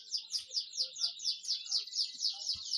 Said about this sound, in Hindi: ये भी वाटर कैनरी है लेकिन लोकल ब्रीड है